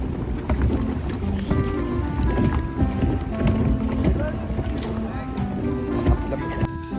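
Boats on the water near Boracay during island hopping: a steady engine drone and wind buffeting the microphone, with people talking over the noise.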